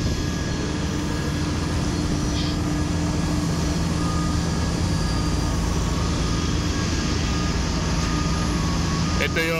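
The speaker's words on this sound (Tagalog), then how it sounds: "Ito yung catering truck na go-offload and loading ng catering food, catering part." Airport catering truck maneuvering on the apron, with a steady loud drone of ground equipment and aircraft engines throughout and faint intermittent reversing beeps; speech is present.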